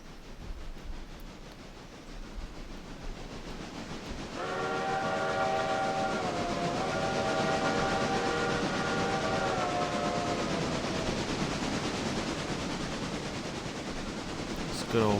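A steam locomotive in the Railroader game sounds a long, loud multi-tone whistle that holds for about ten seconds over a steady chugging rumble, with a quieter stretch of running before it.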